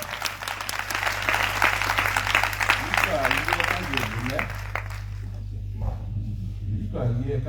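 A church congregation at a Christian testimony festival in Côte d'Ivoire applauds and cheers in acclaim of Jesus, with dense clapping and shouting for about five seconds before it dies down, with a voice speaking over it.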